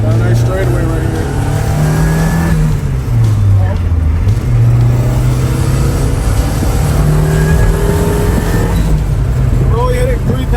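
Turbocharged Mazda Eunos running about 3 pounds of boost and accelerating hard down a straightaway, a loud, continuous engine roar with rising and falling pitch as it pulls through gears, with talking over it.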